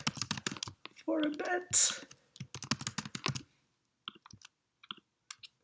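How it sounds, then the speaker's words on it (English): Computer keyboard typing comes in quick clicking bursts, first under a person's talking and then alone as sparse separate keystrokes near the end. "Sorry that you have to watch me type"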